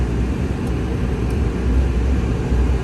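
A Boeing 767 full-motion flight simulator on its takeoff roll gives off a steady low rumble and roar, with no voices over it.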